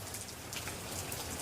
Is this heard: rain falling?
yes